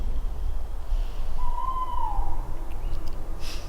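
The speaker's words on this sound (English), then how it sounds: "That was an owl?" An owl hoots once in the woods at night, a long, fairly faint wavering call rising out of steady background hiss and wind-like noise, with no one speaking.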